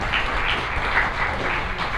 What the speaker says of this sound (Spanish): Si le dan un aplauso, ese lo como merece.